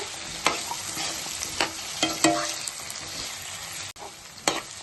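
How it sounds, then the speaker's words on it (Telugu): Potato pieces sautéing in oil in a pan after tomatoes sizzle softly and steadily up close, with several sharp scraping stirs of a spoon breaking through. "ఆలు ముక్కలు కూడా వేసుకుందాము. ఇవి కూడా ఆయిల్లో మగ్గించుకోవాలి."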